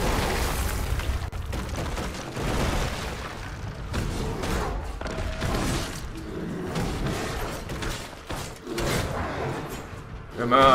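A booming explosion in the fantasy action video game Ascend: Hand of Kul, heard within a loud, dense mix of continuous game sound effects and combat noise throughout.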